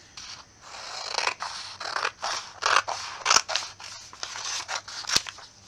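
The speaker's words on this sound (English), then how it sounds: "you need to fold your papers in half and cut them along that line" Scissors snip repeatedly through folded paper for a flower pop-up craft, a steady run of close, crisp cuts with short pauses between strokes and no talking.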